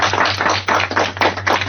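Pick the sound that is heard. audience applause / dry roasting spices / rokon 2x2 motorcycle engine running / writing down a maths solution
audience applause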